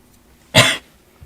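A single loud cough bursts out once, short and rough, alone against near silence with a faint thump just after.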